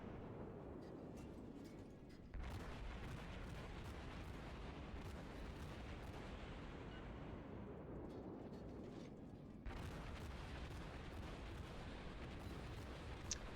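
Naval gunfire in World of Warships, a St. Louis cruiser with many guns shooting at a Wyoming battleship, rolls as dense, continuous booming rumble with two sharp louder surges, steady and close throughout.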